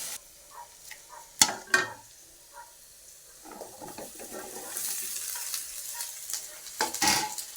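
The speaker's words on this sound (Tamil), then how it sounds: "கடலைப்பருப்பு கடுகும் போட்டு தாளிக்கிறேன்" Chana dal and mustard seeds sizzling and frying in hot oil with occasional stirring and sharp metallic clinks of a utensil against the pan, fairly close.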